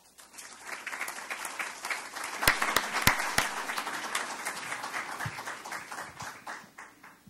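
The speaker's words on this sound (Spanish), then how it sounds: "recibámoslo con un aplauso" An audience at a university novel biennial in Lima breaks into applause to welcome a speaker. It swells quickly from quiet into a steady patter of many hands, with a few sharp, close claps standing out.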